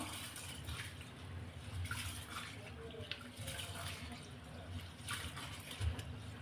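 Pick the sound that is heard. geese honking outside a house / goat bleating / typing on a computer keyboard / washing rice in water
washing rice in water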